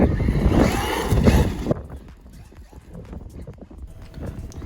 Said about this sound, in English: it was another very windy day